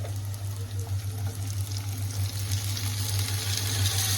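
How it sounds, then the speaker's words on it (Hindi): Fresh Hunan flat noodles and broccoli go into a pot of water, giving a soft splash and a gentle bubbling wash over a steady low hum from the stove. "तो चलिए इसे अब हम डायरेक्टली ड्रॉप कर लेते हैं वाटर में एंड इसे कुक होने के लिए रखेंगे।"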